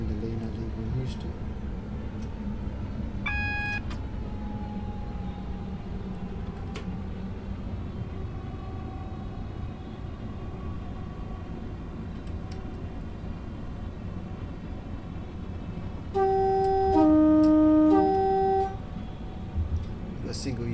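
A Pendolino train leaving London Euston on the West Coast Main Line in Train Sim Classic, heard as a steady low rumble with two-tone horn toots early on and a longer melodic horn sequence near the end.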